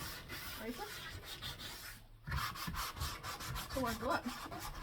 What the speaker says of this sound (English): so I might just go and wipe these all off